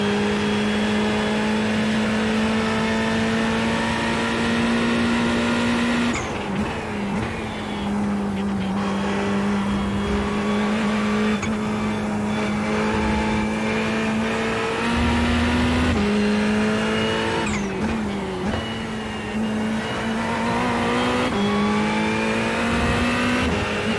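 Ferrari race car in a racing video game at Spa, its engine howling loud and steady with rising revs, brief lifts and gear shifts, and a sustained high-pitched whine throughout, no talk.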